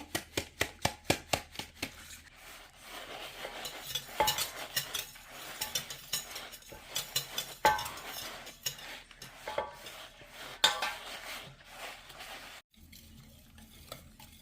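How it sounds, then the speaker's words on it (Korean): Fermented soybean (meju) powder is sifted through a sieve and stirred into a batch of garlic gochujang. Close clinks and scrapes of a utensil against the bowl and sieve come in bursts, with quieter stirring between them and no talk. "이렇게 체에 걸러서 하시면은 메주가루가 더 잘 풀어질 수가 있으니까 이렇게 체에 한번 쳐 주시면서 섞어 주세요"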